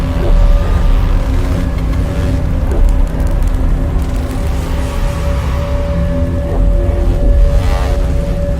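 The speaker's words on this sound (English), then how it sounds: "The sound you're hearing is a light black hole banging on space each time it gets close" Simulated gravitational wave sound of a light black hole falling into a very heavy one: a loud, continuous low rumble with a steady hum, faint rhythmic thumps and a grainy hiss running throughout.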